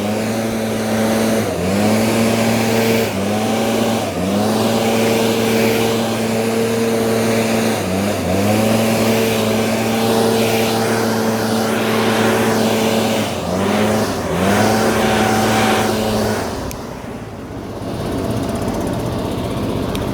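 A motorized garden sprayer's small engine runs steadily near a house orchard, a loud, continuous droning hum with a few brief dips and surges in pitch, then a sudden drop near the end before it carries on.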